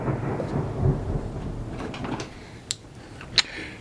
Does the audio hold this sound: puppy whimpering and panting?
no